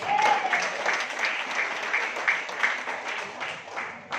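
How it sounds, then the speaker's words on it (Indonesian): Sustained audience applause fills the room at a seminar-style gathering, steady and fairly loud throughout, dense clapping from a large crowd with no break. "Berikan aplaus."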